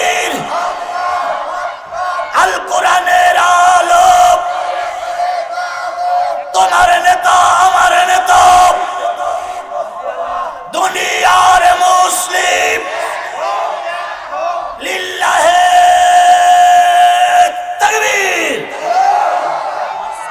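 A large crowd at a Bangladeshi religious gathering roars a loud takbir chant in repeated call-and-response bursts, with the massed voices swelling and falling in waves several times over.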